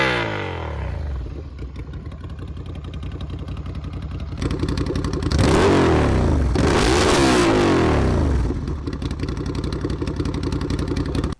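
A Ducati Scrambler motorcycle with a loud, straight-piped exhaust idles roughly, then revs hard twice in quick bursts before settling back to a rumbling idle, close by.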